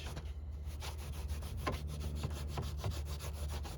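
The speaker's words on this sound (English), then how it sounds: "I'm going to sand this down to nothing." Hand sanding of foam and fiberglass on a C8 Corvette body panel, close rhythmic rubbing strokes repeating steadily at moderate volume.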